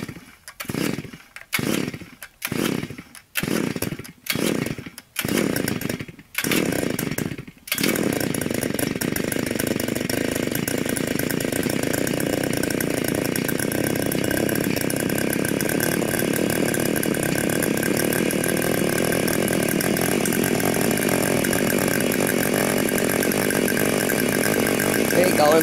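An Earthquake mini cultivator's small engine after a cold start: several rhythmic pull-start cranks, then it catches and runs loud and steady at a continuous buzzing idle.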